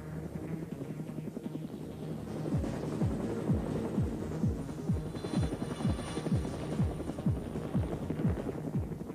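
A French naval aviation rescue helicopter hovers, its rotor throbbing steadily nearby, rapid rhythmic chop sustained over a low engine hum, with no voices.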